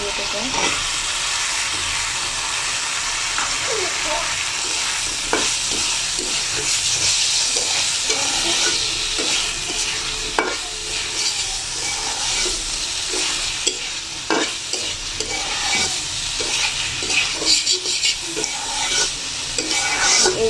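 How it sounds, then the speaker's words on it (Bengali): Spices and boiled potatoes being stirred and fried in a pan for aloo singara (samosa) filling: a steady, close sizzle runs throughout, broken by the scrape and clack of a spoon against the pan. "এইভাবে ভালোভাবে মিশিয়ে নেব মশলাগুলো কষানোর জন্য আলুটাও ফুটতে দেবো"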